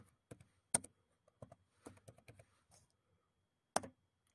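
Computer keyboard keys tapped in a few separate bursts while entering a diskpart partition command, crisp close clicks with quiet pauses between them and a sharper press near the end.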